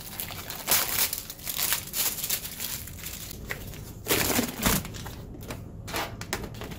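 Laser cutter tubing is pulled out of plastic packaging, producing close, busy crinkling and rustling with scattered crackles and handling knocks throughout, with no talking.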